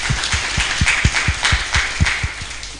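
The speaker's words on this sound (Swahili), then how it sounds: "So makofi kwa hiyo session kwanza." The audience at an MCA candidates' debate in Visoi Ward, Rongai, claps in a steady, even rhythm. The beats come loud and close for a few seconds, with no speech over them.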